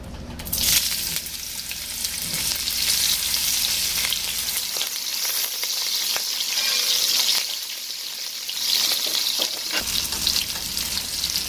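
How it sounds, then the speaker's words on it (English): Chopped onion frying in a pot of palm-oil base for Nigerian ogbono soup with okra, a loud steady sizzle with stirring scrapes, no talking. "So I'll add my onion."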